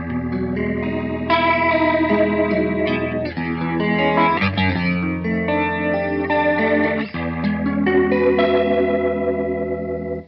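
Electric guitar played through a Ventilator rotary speaker pedal, with warbling chorus-like swirl and some grit, as a continuous passage of chords and single-note lines, up close and fairly loud, with no one speaking.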